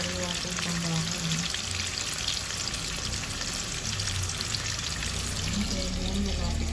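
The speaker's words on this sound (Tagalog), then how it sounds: "Nalagyan ko na po ang tambakol. Sa mainit na mantika." Tambakol fish fries in hot oil in a pan, a dense, steady crackling hiss close by, with a voice talking faintly over it.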